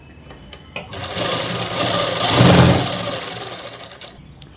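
A sewing machine stitches dress fabric in one close burst of rapid mechanical whirring. The whir swells to a peak midway, then stops, with a few light clicks and handling sounds before and after.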